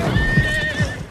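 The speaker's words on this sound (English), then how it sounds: "This horse got a lot of spirit." A spirited horse lets out a loud, close whinny, its quavering call running through the whole short moment over a faint clatter of movement.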